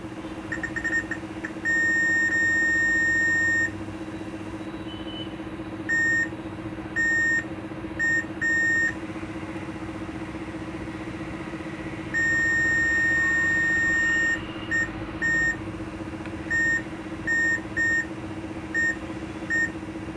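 An HP laptop motherboard (La-d703p) with a failed CPU beeps in short electronic tones, a long beep then clusters of brief bleeps in an uneven repeating pattern over a steady low hum.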